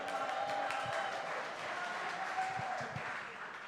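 A studio audience applauds a Wisconsin cheese curd juggling attempt on a sports talk show. The clapping is steady and moderately distant, with faint murmurs of voices in the background.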